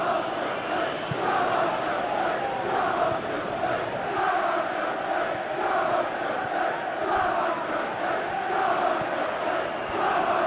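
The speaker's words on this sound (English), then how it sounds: "Well, the crowd clearly like what they just saw." Stadium crowd in the PES 2021 football video game roars and cheers steadily, a dense, continuous wash of many voices with rhythmic surges, loud and unbroken throughout.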